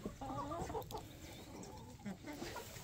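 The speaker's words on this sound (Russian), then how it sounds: "Куры, курочки. Все, уже наелись травы." Chickens cluck softly and intermittently close by on a farm, with a low outdoor background hum and a voice briefly talking to them.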